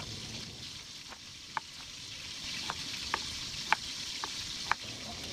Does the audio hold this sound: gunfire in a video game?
no